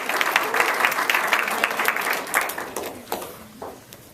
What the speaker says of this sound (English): Please, a round of applause for our colleagues.